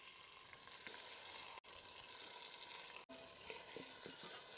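Cumin, dry chillies and ginger-garlic paste fry in hot oil for a tempering over an outdoor wood-fired stove in a farm field, giving a steady, fairly faint sizzle throughout, broken by two brief silent gaps.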